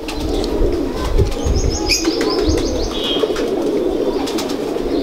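A Ferozpuri female pigeon coos loudly and close by, mixed with sharp chirps and brief wing flapping against a steady background hum.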